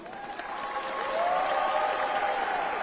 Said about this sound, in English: can I please ask everyone to give a round of applause to faculty and staff for making today possible.